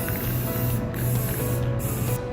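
A spray can lays down a clear coat in three steady hissing bursts with brief gaps between them, close and loud.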